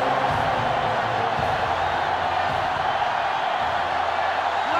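Stadium crowd in NCAA Football 2005, a Florida versus Florida State rivalry game, roaring loudly and continuously, with a few swells of cheering rising out of the constant wash of noise.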